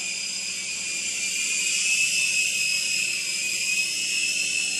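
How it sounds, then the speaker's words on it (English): Small toy helicopter in flight, a steady high-pitched electric whine from its motor and rotor, close and continuous with slight wavering, no voices. "if you know what you're doing with this helicopter, it's really not hard to fly"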